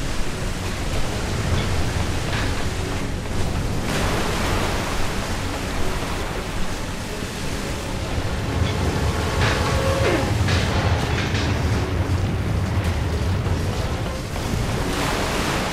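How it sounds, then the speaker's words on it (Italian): Water gushes into a flooding submarine in the video game Resident Evil 6, a dense, steady roaring rush that fills the whole stretch with no voices. "L'acqua entra a fiotti."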